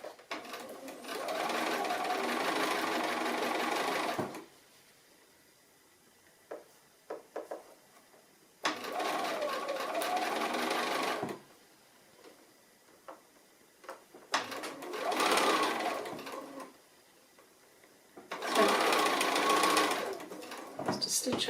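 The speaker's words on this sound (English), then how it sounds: "So I'm just going to stitch it all around that curve" A sewing machine stitches a quarter-inch seam around a curve on a small fabric robin in four sustained runs of steady whirring, with quiet pauses and small handling clicks and taps between them.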